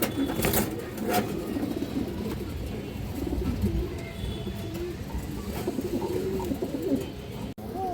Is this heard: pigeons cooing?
yes